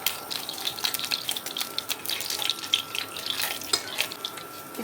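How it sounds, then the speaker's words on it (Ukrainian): Steady sizzling and crackling of hake fish cakes frying in a pan over medium-low heat, a dense hissing texture with small pops throughout, close and moderately loud. "смажимо до румяної скоринки"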